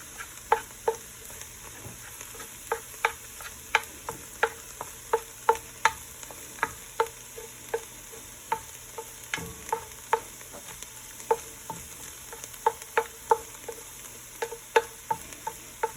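Seasoning is stirred into cowboy baked beans in a sizzling pan, with a steady frying hiss and a run of sharp, irregular scraping clicks from the utensil against the pan. The sounds are close and carry on throughout without talk.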